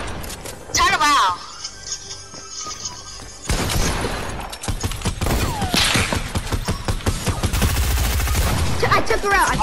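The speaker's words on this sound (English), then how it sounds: "I shot her in the head." Gunfire in a battle royale video game, rapid loud bursts of shots and cracks filling most of the stretch, with a player talking over the action.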